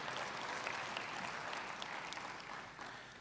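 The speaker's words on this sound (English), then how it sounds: "you can clap for that" Congregation clapping during a church sermon, a soft, continuous patter of many hands heard from a distance with a steady, even texture.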